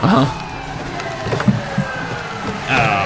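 Police car siren from a car video game whose lights and siren glitch, a tonal wail running steadily under game engine noise and excited talk through the clip.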